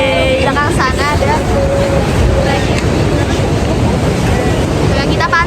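Surf rolling onto the beach at Tanah Lot in Bali, a loud continuous wash buffeted by heavy wind on the microphone, with people's voices faintly heard beneath.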